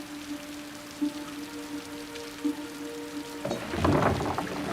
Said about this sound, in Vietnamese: Tiểu Quỷ, con đội mưa lớn như vậy về sao?